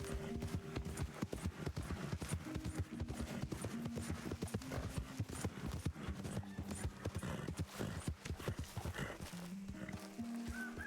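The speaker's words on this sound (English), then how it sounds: "Lost control of my horse right there." Horse hooves in Red Dead Redemption 2 clatter in a steady, rapid galloping rhythm, close and loud, with a neigh and in-game music running underneath.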